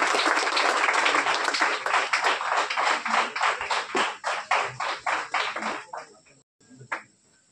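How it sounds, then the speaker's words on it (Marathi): An audience at a rural development felicitation event claps together in a steady rhythmic beat of sharp, closely spaced claps that thins out and stops, followed by a brief silence and a last stray clap. "सर्वांनी जोरदार टाळ्या वाजवून यांच्या कार्याला प्रोत्साहन आपण द्यायचं आहे"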